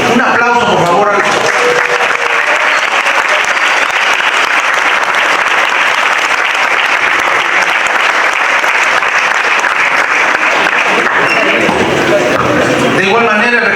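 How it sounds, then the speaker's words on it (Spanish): Sustained, loud audience applause at an academic economics conference as a certificate of recognition is presented, dense clapping holding steady throughout with a brief voice heard at the start and again near the end. "Un aplauso, por favor"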